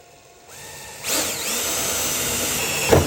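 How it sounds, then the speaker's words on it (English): A power drill bores a hole in the hood of an OBS Ford truck: a faint lead-in, then a loud steady whine as the bit spins up and cuts through metal, ending in a short bump. "let's drill a hole."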